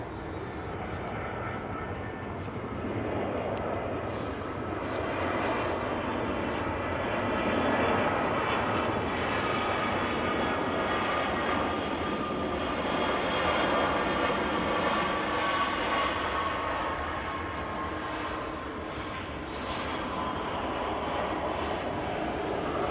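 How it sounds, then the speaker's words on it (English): An EasyJet Airbus A320 landing at Manchester Airport, its broad jet roar swelling and holding steady for a long stretch, heard from a distance with people talking at times. "Nice and smoothly down the EasyJet 320"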